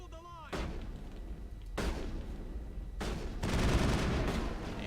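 Enemy shotgun blasts in the video game Mass Effect, a few heavy booming shots with long rumbling tails, loud and close, overlapping with dense battle noise.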